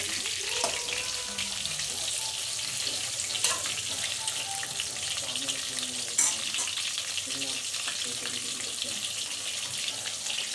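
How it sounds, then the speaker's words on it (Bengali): Potatoes frying in a pan in a home kitchen: a steady, crackling sizzle runs throughout with a few clinks and stirring scrapes, fairly quiet, and no one speaks. "আলুগুলো প্রথমে আমি ফ্রাই করে নেব।"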